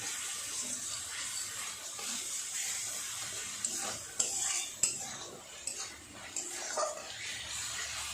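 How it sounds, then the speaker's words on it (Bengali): Spice paste with a little water is fried and stirred in a pan. A spatula scrapes and clinks against the metal in faint, uneven strokes over a soft wet sizzle. "মশলাটা সুন্দর করে কষিয়ে নেব"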